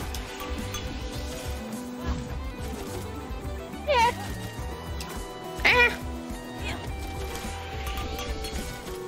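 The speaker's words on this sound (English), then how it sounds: "What was that? Kitty cat!" Two short meows from a cat in the Full Metal Furies video game, each about half a second, rising above constant game music and sound effects.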